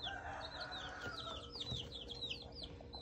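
Young chicks, just hatched, cheep in a rapid stream of high, thin peeps. Low clucking and faint rustling run underneath.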